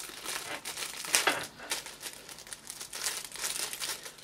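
A magician's accordion multifunction bag is stuffed back into its crinkly plastic packaging, giving a close run of irregular crackling and rustling bursts, with one louder crinkle near the middle and no talking.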